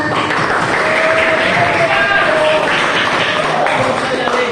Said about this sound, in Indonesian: Terima kasih tepuk tangan buat